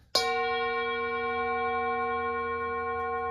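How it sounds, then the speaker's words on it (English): A brass singing bowl, about 25 years old, is struck once with its mallet, giving a sharp attack and a bright, sustained metallic ring that hangs on evenly without fading. "singing bowl that I've had for about 25 years."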